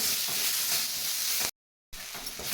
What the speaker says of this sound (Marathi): मुठभर बारीक चिरलेली कोथिंबीर घालायची आहे आणि थोडंसं याला परतून घ्यायचं आहे